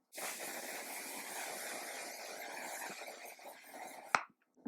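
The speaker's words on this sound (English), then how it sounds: "I'm going to finish off with the One Size Until Dawn Mattifying Waterproof Setting Spray." A continuous hissing of One Size Until Dawn mattifying waterproof setting spray lasting about four seconds, close and steady, ending abruptly with a small click.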